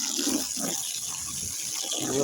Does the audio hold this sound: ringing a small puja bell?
no